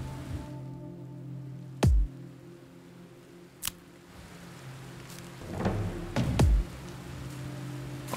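Rain falls in the Kainga: Seeds of Civilization video game as a steady, soft hiss. A few sharp thuds and cracks punctuate it, and a low rumble swells near the end.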